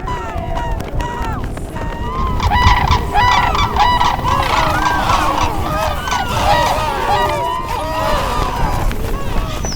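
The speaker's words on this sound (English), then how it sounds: "I can tell you the birds are attacking out there" Geese honk and squawk in a dense, loud chorus of attacking birds throughout, with a running crowd and rumbling commotion beneath, a staged bird attack in a homemade remake of the film The Birds.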